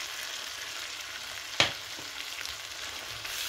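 Bhindi masala sizzles in a frying pan under a steady hiss, broken by one sharp scrape of a spoon stirring against the pan and a softer knock after it.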